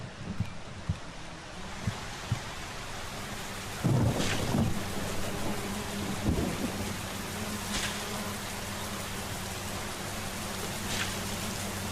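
Steady rain hisses throughout the video game Solarpunk, with low rumbles of thunder rolling in around the middle and a few soft thuds early on, no voices.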